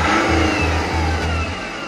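A car engine is revved in short bursts while parked, a mid-pitched motor rising and falling in a repeating pulse of about four quick revs, close and loud with no talk.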